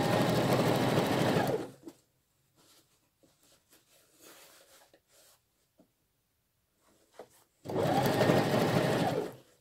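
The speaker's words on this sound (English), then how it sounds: "then I'm going to begin sewing." A sewing machine stitches a single welt pocket for a coat or jacket, running in a loud steady whir for about two seconds, then quiet handling noises and soft clicks, before a second stitching run starts up near the end.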